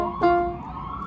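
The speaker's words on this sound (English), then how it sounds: "now that the siren is passing by, I'll do it one more time" An emergency vehicle siren wails faintly in the distance, its tone holding then sliding lower as it passes, with no talking.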